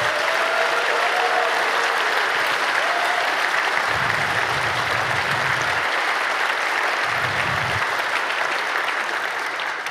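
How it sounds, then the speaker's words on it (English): Sustained applause from a large audience at the closing event of the 28c3 hacker congress, honouring the content committee and speakers. The dense clapping stays loud and even for the full stretch, with no talking over it. "I want a big applause for the content committee and the speaker"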